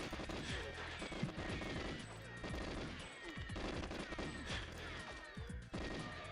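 Dense, continuous gunfire from enemy soldiers in the GoldenEye 007 video game, with rapid automatic bursts and crashing impacts filling the whole stretch.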